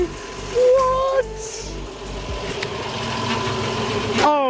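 A car engine idles after its first start on a Holley Sniper EFI, a steady low rumble running under the whole stretch, with brief tonal whines and a rising pitch sweep near the end.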